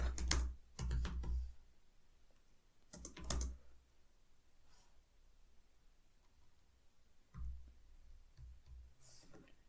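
Keys clack on a computer keyboard in a few short clusters of quick taps with long quiet gaps, fairly faint and alone.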